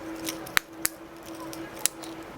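A few sharp, distinct plastic clicks from a Mitsubishi Outlander Sport key fob cover snapping shut, three or four separated by short pauses, close by over a quiet background.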